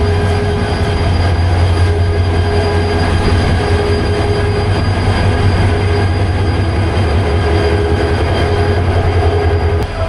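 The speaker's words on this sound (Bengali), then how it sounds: "এখনই ইঞ্জিন গরম হচ্ছে।" A Hyundai Rotem 2900 series diesel locomotive idles at a station as its engine warms up, a loud continuous low rumble with a high steady whine and metallic hum, no talking.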